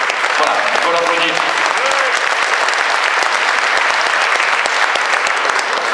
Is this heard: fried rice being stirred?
no